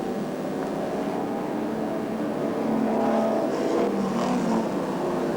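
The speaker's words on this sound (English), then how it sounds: "we've only got two cars rolling up there in the main straight at the moment" Race cars circulate at Alexandra Speedway during a 1985 100-lap race, engines droning from a distance with a steady, slightly rising roar that swells midway, no talk over it.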